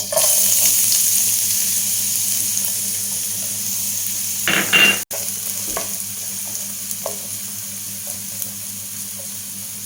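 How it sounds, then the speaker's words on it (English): Chopped onions fry in hot oil for a kofta curry, a constant close sizzle with a few stirring scrapes and one sharp knock near the middle. "I added oil here. I am adding chopped onions."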